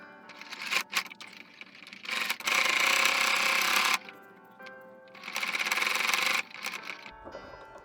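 A sewing machine stitching a men's shirt into a lady's dress, running in two long loud bursts with short stop-start pulses before them, close and without talk.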